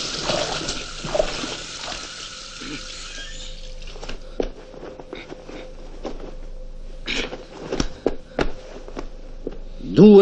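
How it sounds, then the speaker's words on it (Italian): Water runs from a tap onto a scalded tongue in the 1975 Italian comedy film Fantozzi, a steady close trickle with scattered clatters and splashes over music. "Dagli 8 ai 10 secondi per stemperare la lingua rovente sotto il rubinetto."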